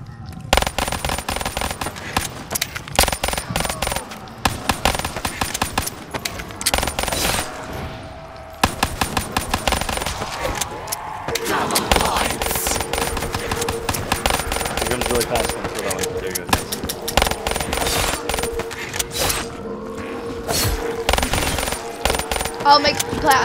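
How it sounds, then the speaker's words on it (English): Video-game gunfire shooting zombies in Mario Zombies: rapid bursts of sharp shots repeating almost nonstop, with occasional voices mixed in. "How about we just stand on this bridge and shoot all the zombies first?"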